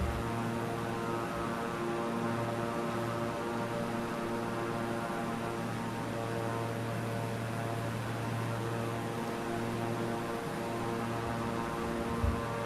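Steady airplane engine drone from a flight simulator game as the plane flies a loop, a continuous loud propeller hum with layered tones holding evenly throughout with no talk.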